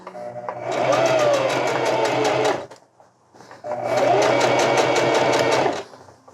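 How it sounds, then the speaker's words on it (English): Two long, even runs of a sewing machine stitching hammock fabric, close and loud with a rapid needle rhythm, separated by a brief pause. "I'm gonna just sew again, exactly the same way, all the way down"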